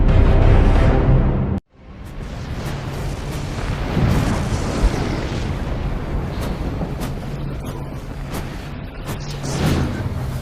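A facility blowing up in a Transformers video game: loud rolling explosions that cut out abruptly, then a long rumbling wash of blasts and debris that stays heavy to the end.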